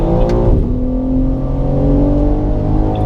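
Car at full power on a race track at COTA, a loud, close engine roar whose pitch drops sharply as a gear shifts early on, then climbs steadily as it accelerates.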